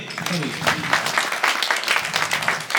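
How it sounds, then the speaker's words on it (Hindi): A crowd at a village ceremony honouring an Olympic gold medallist applauds. Rhythmic, lively clapping swells in waves throughout, and a voice is heard briefly at the start. "तालियां बजा दें।"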